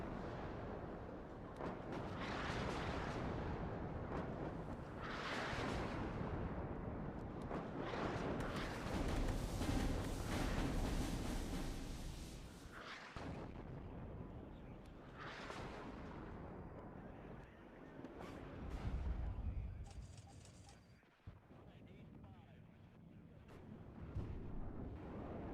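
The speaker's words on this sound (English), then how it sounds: "White 5mm artillery" Artillery fire in the WARNO video game: rolling, booming barrages and rumbling blasts overlap continuously, heavy and distant-sounding, swelling and fading over the span with no speech.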